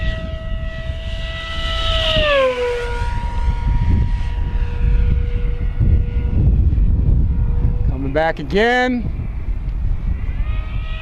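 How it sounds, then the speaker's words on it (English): An E-flite V1200 electric RC jet streaks past fast, its whining motor sweeping down in pitch with a Doppler dip, then rising again as it returns, while someone talks excitedly over the flight. "This plane just absolutely tears."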